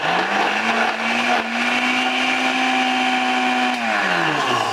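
A blender motor whines steadily while crushing ice with water for a homemade slushie, its pitch rising on spin-up, holding with a slight dip, then winding down at the end, loud and close.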